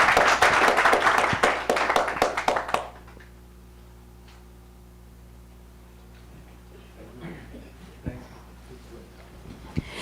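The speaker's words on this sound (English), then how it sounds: "Another round of applause, please." A round of applause from the audience at an international media conference award ceremony, loud clapping for about three seconds that cuts off into a quiet room with a low hum and a few faint taps.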